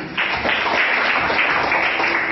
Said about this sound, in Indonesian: Oke, bagus, tepuk tangan buat Asti.